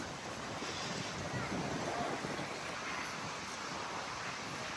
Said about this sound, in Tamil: கடல் காற்று நல்லா குளு குளுன்னு இருக்கு